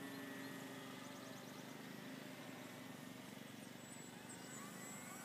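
A Parkzone T-28 Trojan RC parkflyer plane on its maiden flight at sunset gives off a faint, distant, steady electric motor and propeller drone that holds a constant whine throughout.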